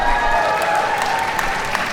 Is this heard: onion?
no